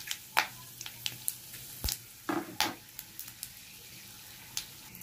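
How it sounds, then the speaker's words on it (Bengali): Whole cumin, garam masala and bay leaves tempering in hot oil already used for frying fish, a soft steady sizzle punctuated by sharp pops and crackles, close and alone with no talk. "জিরে, গোটা জিরে ফোড়ন, গোটা গরম মশলা, তেজপাতা"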